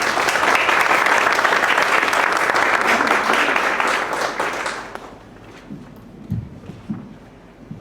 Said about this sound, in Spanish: le damos una bienvenida y un aplauso